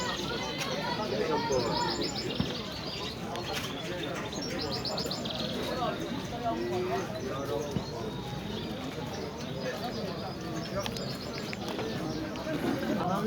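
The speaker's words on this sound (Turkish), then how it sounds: "Evet burada küçük kuşlar var arkadaşlar." Small birds, goldfinches and budgerigars, chirp and twitter continuously amid the bustle of an outdoor bird market, with faint background chatter and occasional clip-clop sounds throughout.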